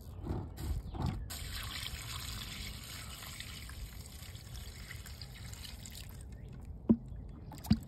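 Water poured from a small bucket of leftover fertilized water onto a newly planted blueberry bush in a raised bed, a soft steady trickle and splash running for several seconds, with two brief sharp knocks near the end.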